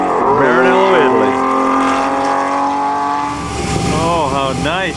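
A Ferrari Daytona roars past on the Fiorano test track in Maranello, Italy, its engine loud and close with rising and falling pitch sweeps as it accelerates and shifts.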